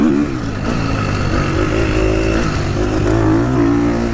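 A GASGAS 450 dirt bike with a loud aftermarket pipe, its engine droning steadily under load at a constant, loud, close level.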